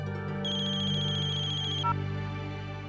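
An electronic phone ringtone plays at moderate volume, a steady melodic tone pattern that holds for a couple of seconds with a brief pitch change, heard alone without voices.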